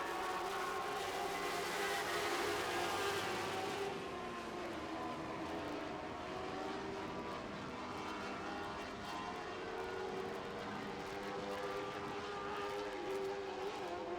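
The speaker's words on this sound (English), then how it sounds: "One lap remaining for your race leader in the Northern Lightning Sprint Association, Amber Balkan." Engines roar steadily as sprint cars race around a track in a Northern Lightning Sprint Association feature, a continuous loud mechanical drone with shifting pitch and no voices.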